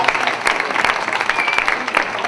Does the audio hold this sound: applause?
yes